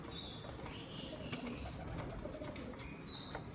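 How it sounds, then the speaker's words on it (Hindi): Golden pigeons in a breeder's loft cooing softly at a distance, low repeated coos over steady background hiss and a few faint chirps. "ये भजन देखें माशाल्लाह गोल्डन कबूतर"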